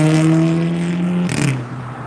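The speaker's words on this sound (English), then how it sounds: "a lot of these cars that be very loud, man, that should be against the law" Loud cars roar past on a nearby highway, with a sustained engine drone that shifts in pitch as a vehicle passes close by.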